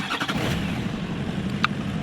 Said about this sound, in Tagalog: Pero pag start ko ng van